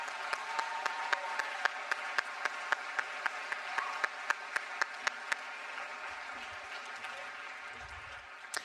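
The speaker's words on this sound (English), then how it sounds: "Please join me and give them a round of applause." Graduation crowd applauding at a high school cap and gown ceremony, a quiet, distant wash of clapping with a few crisp, evenly spaced claps standing out nearby, a low rumble and a final clap at the end.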